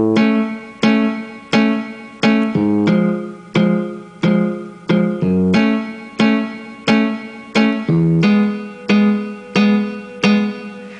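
A piano plays an intro riff with left-hand bass notes, steady rhythmic chords struck loud and close, each decaying before the next, with no talking.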